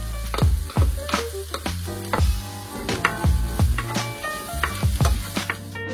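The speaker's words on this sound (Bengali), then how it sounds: "বাটারটা গরম হয়ে গেছে, এখন অনিয়ন দিয়ে দিব।" Cubed onion drops into hot butter in a pan and sizzles loudly, with repeated sharp stirring clacks and scrapes breaking through the steady frying hiss.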